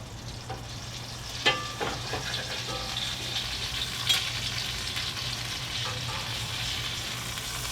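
Steak sizzles steadily in a hot pan, a constant bright frying hiss with a few faint clinks and taps. It is moderately quiet and close, and no one speaks.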